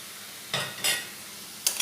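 Fried potatoes added to mushrooms in a pan for a mushroom and potato curry, a soft constant sizzle broken by three or four brief scraping stirs, close and alone.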